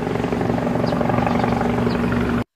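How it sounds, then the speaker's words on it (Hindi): A toy helicopter buzzes with a steady, loud whirring drone that runs unbroken and then cuts off abruptly near the end. "ये तो मेरा ड्रीम हेलीकॉप्टर है। चलो अब इसे चलाकर देखता हूँ।"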